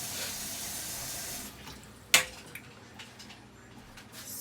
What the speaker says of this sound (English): So this is how much water I'm putting into this pot.